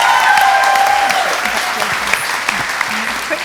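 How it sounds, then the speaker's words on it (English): Loud, sustained audience applause at the Chwarae Teg Womenspire Awards 2022 ceremony, slowly thinning toward the end, with a few voices and cheers mixed into the clapping. "A big round of applause again for Vera"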